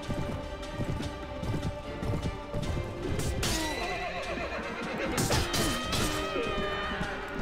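Galloping horses in the Mount & Blade video game, with hoofbeats clattering alongside neighs and whinnies over a busy battle din that holds steady throughout, with a sharp crash partway through.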